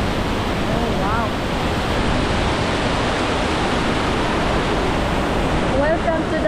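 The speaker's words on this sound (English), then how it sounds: "Welcome to the waterfalls" Dense, constant roar of rushing water from Sayahan Waterfalls in Ormoc City fills the scene, loud and broadband, with faint voices briefly audible underneath.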